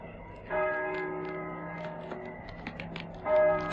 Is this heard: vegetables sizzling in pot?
no